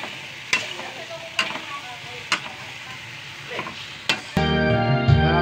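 Palos eel frying with turmeric powder, a steady sizzle under sharp intermittent scrapes of stirring, close, before the frying sound turns fuller and louder near the end.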